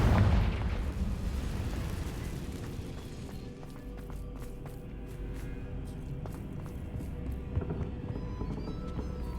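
Hogwarts Legacy Confringo fire spell blast: a loud burst at the start decays into a sustained rumbling, crackling fire with scattered sharp clicks throughout, fairly close and dense.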